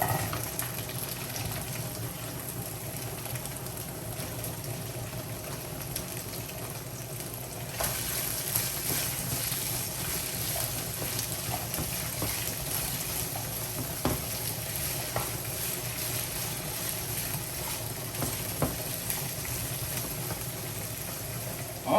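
Chopped onion, sweet pepper and white scallion pieces frying in a hot pan for beef and broccoli, a steady close sizzle that grows louder after they go in, with occasional stirring clicks and no talk.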